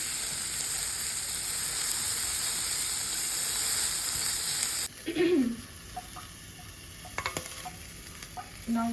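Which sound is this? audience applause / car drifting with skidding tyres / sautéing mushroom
sautéing mushroom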